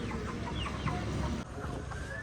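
Chickens cluck and chirp at a roadside chicken shop, several short calls scattered through a busy, noisy outdoor background, with no talking.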